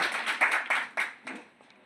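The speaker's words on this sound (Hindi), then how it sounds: "सभी एक बार जोरदार तालियों से इनका स्वागत करवाएं" Scattered hand claps from an audience welcoming a guest at a national-level under-17 sports event ceremony, a handful of separate claps that fade out within two seconds.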